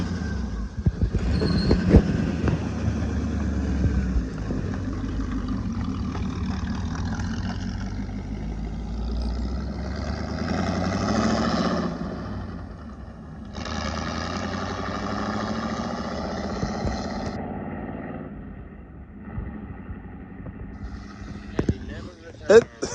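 A 1941 Ford car engine, fitted with a pipe run out the back, is cranked and idling with a low steady rumble, mostly buried under people talking nearby for most of the stretch.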